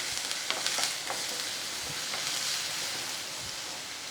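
Potato masala with chillies and chopped coriander leaves sizzles steadily in a pan, a soft, even frying hiss with faint stirring scrapes and no voices.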